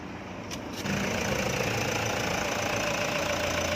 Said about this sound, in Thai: เปิดเครื่องยนต์ให้ดูสักนิดนึงนะครับผมก่อนไป